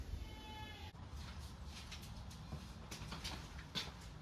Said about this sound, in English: I can hear their mom screaming in the goat's barn for them.